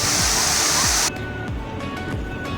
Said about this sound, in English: And I'm so proud that this waterfall belongs to Assam.